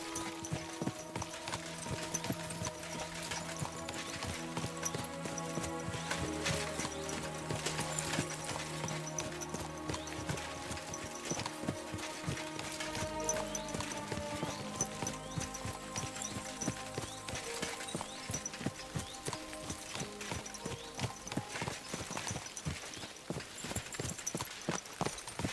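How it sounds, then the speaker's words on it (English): Horse hooves clip-clop continuously in the medieval video game Kingdom Come: Deliverance II, a steady rhythmic trot at close range over a bed of ambient game sound. "My, what a beautiful horse."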